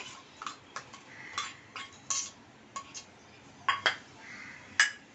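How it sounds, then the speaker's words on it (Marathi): A spoon mixes spice paste stuffing for brinjals in a bowl, with onion, coriander, dried javla shrimp, garam masala, turmeric and red chili powder; light irregular clinks and taps against the bowl sound close by, with no talking. "हे आता सगळं ना मी मिक्स करून घेते"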